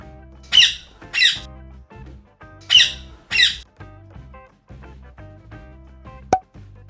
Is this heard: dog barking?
no